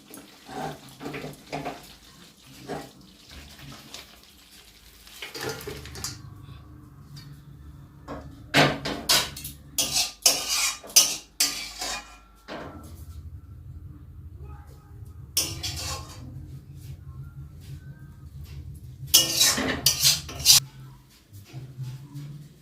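Utensils clattering as cooked mustard prawns are lifted from the pan, with several sharp metallic knocks and scrapes in irregular bursts, close by, between stretches of quiet and a person talking.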